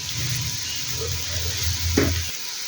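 Semolina roasting in ghee for halwa, a soft sizzle and scraping of the spoon through the grains close by, with a low hum that cuts out near the end.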